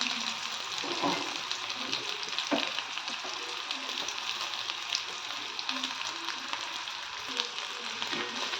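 Onions sizzle in a pan as they fry golden for a soya masala varuval, a steady close frying hiss broken by occasional stirring scrapes and clinks.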